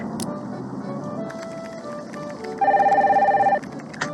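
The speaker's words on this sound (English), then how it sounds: "Get the phone, please." A telephone rings with a short electronic trill in a Nancy Drew video game, one burst lasting about a second over a busy ambient background.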